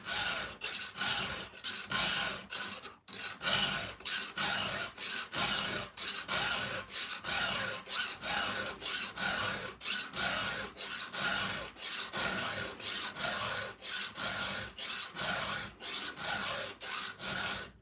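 Steady back-and-forth rasp of a hand file sharpening chainsaw teeth, with light, even strokes repeating at a regular rhythm close by and no talking.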